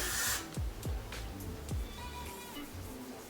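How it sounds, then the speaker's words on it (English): A few short bursts of aerosol spray hiss, close by, with a brief pause between them, fairly quiet overall, sprayed onto a bald cap. "You spray as more or as less as you feel that you need"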